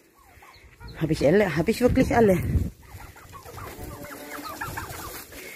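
Turkeys clucking and gobbling nearby in a loud burst, then softer scattered calls continue while a person talks.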